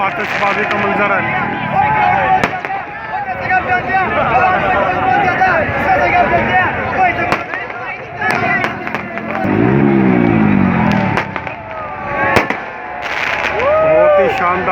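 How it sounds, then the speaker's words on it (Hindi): Fireworks bang and crackle repeatedly at midnight in Liberty, Lahore, amid a loud, dense crowd, with sharp bursts scattered through steady hubbub, car noise and shouting voices. "चारों तरफ आतिशबाजी का मंजर है।"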